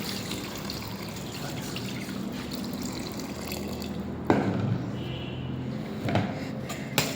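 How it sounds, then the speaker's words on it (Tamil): Coconut water being poured into a container to top up appam batter to the right level, a faint continuous trickle with a few small splashes and clinks. "தேங்காய் தண்ணி ஊற்றுறேன்."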